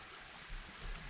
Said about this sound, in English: flowing brook, stream